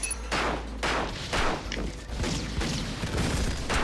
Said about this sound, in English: Okay, I get it, you have a needle cannon.